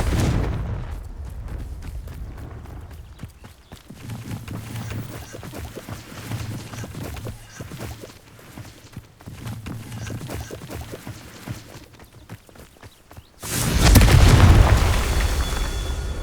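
Confringo fire spell explosions in the Hogwarts Legacy video game, with rumbling blasts and crackling bursts throughout, ending in a loud, heavy boom near the close.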